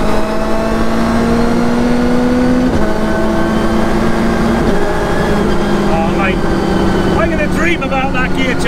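A Fiat 500 fitted with a 197 hp Hayabusa motorcycle engine and an 11,000 rpm redline revs hard and loud up close. Its rising whine drops sharply at a gear change, then climbs again.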